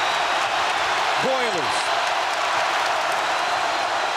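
Purdue fans in a packed home basketball arena against Indiana keep up a loud, continuous crowd roar, with a commentator talking over it and a brief whistle-like sweep rising midway.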